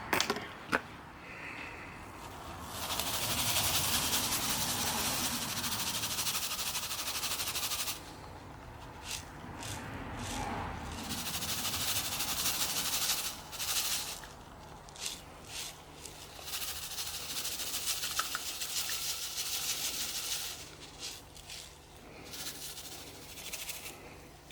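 Gravel and water swish and scrape in a gold pan during hand prospecting in the Irish Midlands, a close, rough wash of sloshing with gritty stones rolling, coming in repeated waves over about twenty seconds.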